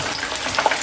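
Frozen spring rolls frying in hot oil, giving a steady, close sizzle with faint crackling pops and no talk.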